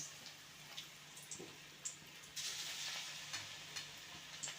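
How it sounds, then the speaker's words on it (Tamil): Mushroom pieces for road-side kadai kalan fry in a little oil over medium heat, a soft, close sizzle with scattered pops and a few stirring scrapes, quiet and without talk. "போட்டு கொஞ்சம் பொரித்து எடுத்துக்குங்க."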